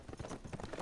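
Steady clip-clop of horse hooves in a video game, a quick repeating trot rhythm, fairly close and moderately loud with no talking.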